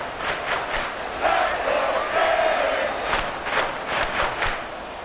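Football stadium crowd roaring near the goal line, a sustained wall of cheering and yelling that surges and dips, with a faint announcer's voice and some sharp rhythmic claps cutting through.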